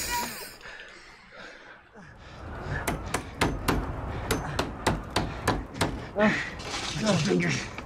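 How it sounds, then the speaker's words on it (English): A hammer drives a nail into a board over a door in a film scene, striking in a steady run of about ten sharp blows, with faint voices and chuckling around it. "You gotta hammer another one."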